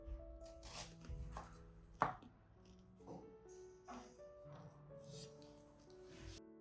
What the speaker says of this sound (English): First, prepare thinly sliced onions.